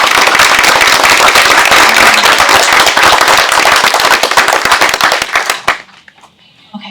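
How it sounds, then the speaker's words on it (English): A large audience at a student venture competition gives a loud, dense round of applause for the Stumberg family. It holds steady before tapering off and stopping abruptly, leaving near silence. "Please join me in a round of applause thanking the entire Stumberg family for their steadfast support of Trinity and student innovation."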